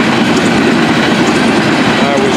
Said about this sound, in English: there's a tank train on this one, too